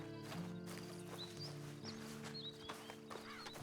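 Horse in the video game Red Dead Online, with steady clip-clop hooves and faint snorts over a constant low game ambience, with bird chirps scattered above.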